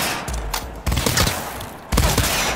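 An auto pistol in Cyberpunk 2077 fires loud, rapid bursts of close gunshots. The volleys come in three clusters that start about a second apart, each dense and crackling with a ringing tail.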